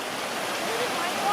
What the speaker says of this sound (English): look at this little waterfall